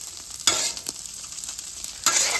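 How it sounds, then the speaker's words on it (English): Rice with soy sauce sizzling and frying on a hibachi griddle with smoked ribeye nearby, a steady close hiss with two louder flare-ups as it is stirred, no talk. "we added a little bit of soy sauce to our rice. We moved it over to a lower burner."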